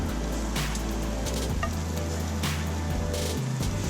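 Bacon sizzles and crackles on a Lodge cast iron pan over a grill, a steady bright frying hiss with scattered pops throughout.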